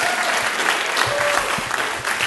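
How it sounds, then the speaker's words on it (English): Brief, steady audience applause at a STEM Day panel discussion, a dense even patter of many hands clapping for a couple of seconds. "Yes, give a round of applause"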